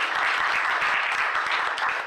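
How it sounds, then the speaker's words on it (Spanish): An audience at a ceremony in Oklahoma City applauds Officer Neal, giving a standing ovation. The dense clapping fills the room steadily and evenly for about two seconds without letting up. "Damos un fuerte aplauso."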